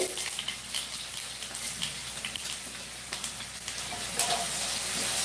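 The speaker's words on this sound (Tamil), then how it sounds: "கடுகு காராமணி பொரியலுக்கு தாளிக்கிறேன் உளுத்தம்பருப்பு" Mustard seeds and urad dal sizzle and crackle steadily in hot oil, tempering for a cowpea stir-fry in a home kitchen, with a dense, close frying hiss and scattered small pops throughout.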